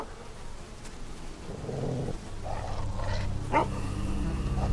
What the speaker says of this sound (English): I see what he's barking at.